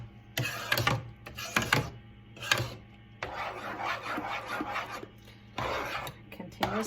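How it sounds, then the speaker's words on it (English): A spoon stirs thick, creamy potato soup in a pot, giving bursts of scraping and rubbing strokes that come close and loud, with a longer steady stretch of stirring in the middle. "Continue to stir it"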